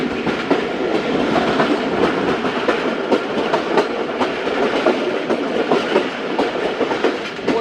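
The Jaffar Express passenger train rolls steadily across an 1872 railway bridge, with loud, continuous rumbling and a regular clickety-clack of wheels heard from on board.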